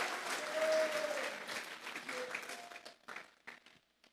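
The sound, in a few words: congregation applauding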